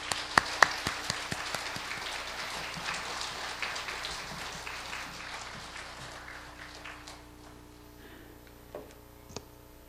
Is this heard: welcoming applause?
yes